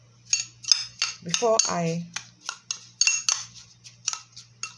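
A utensil stirs and mixes onion-based ingredients in a bowl, giving quick repeated metallic clinks and scrapes close by, with a short voice heard briefly partway through.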